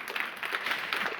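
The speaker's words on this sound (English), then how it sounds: "Even Todd's clapping for that one." An audience at a women and leadership conference keynote bursts into brief applause, a short, moderately loud patter of many hands clapping together.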